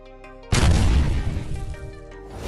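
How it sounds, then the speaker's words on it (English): Explosion of 5 kilograms of TNT inside a car: a sudden loud boom after a quiet half second, followed by a long rumbling, crackling decay that slowly fades. "we have an explosion 5 times the size of the last. 5 kilograms of TNT inside a car."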